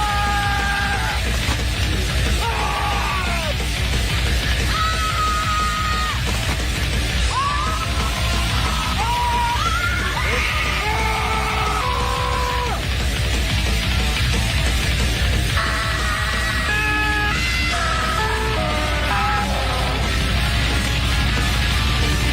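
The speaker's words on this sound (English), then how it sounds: "You scream and it gives you booze." People scream one after another into a brewery's booze-dispensing machine, with strained yells and shrieks over a loud, constant crowd and room din throughout.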